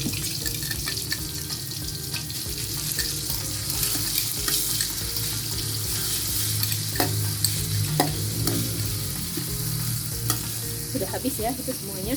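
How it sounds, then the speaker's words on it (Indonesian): Shallots, garlic and chili sauté in hot oil, a continuous close sizzle with stirring scrapes throughout, while running water from a tap is heard in the background. "nanti kita masukkan bawang merah, bawang putih, dan cabainya, ditumis ke dalam minyak"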